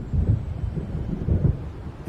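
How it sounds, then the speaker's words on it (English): Thunder from an approaching storm in the game Alan Wake, a low distant rumble rolling in two soft swells under a steady windy hiss. "It seems there's a storm coming."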